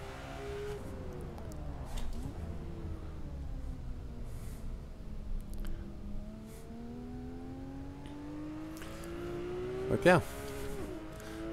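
A race car engine in a racing simulator drones and revs through a lap around Donington, its pitch rising and falling with shifts and corners, while someone speaks over it.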